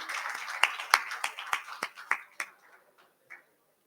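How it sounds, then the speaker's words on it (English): A small group at a bamboo technical session claps for an event organizer, with distinct, separate hand claps in a loose rhythm that thin out and fade, ending in one last isolated clap. "let's end with a kind of an applause for Kamish for organizing this event"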